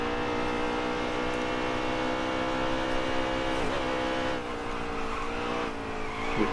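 Race cars in the video game NASCAR Heat 3, a steady, loud engine drone with a layered whine and occasional tire squeal, heard alone without commentary.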